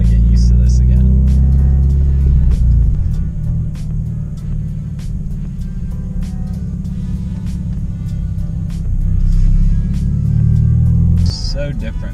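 A Scion FR-S runs through a reworked clutch and pilot bearing on its first drive back from the dealer after recall work. Its engine gives a continuous low rumble from inside the cabin, with a slight drop in pitch partway through.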